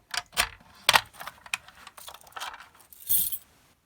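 Fire alarm keys jangle and clink up close in a series of bright metallic rattles and taps, irregular in rhythm, ending with one longer shake before falling quiet.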